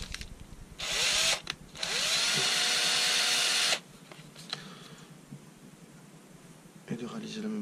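A power drill with a small bit bores into a lead-head fishing-lure mould, whining loudly in two long close bursts and winding down, with a voice talking in the quieter stretches between.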